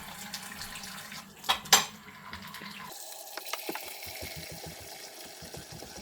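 Dishes clatter in a collapsible dish tub, with several sharp clinks of cutlery and pots near the start, then softer scattered knocks and a light splash of water continuing to the end.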